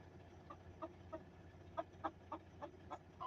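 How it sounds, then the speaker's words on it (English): Hen clucking inside a box, a series of soft, separate clucks spaced irregularly, fairly quiet and close, with no talking. "I hear her clucking"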